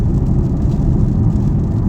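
A BMW 330e's 2-litre turbocharged four-cylinder engine drones steadily from inside the car while driving, a continuous low rumble with no speech.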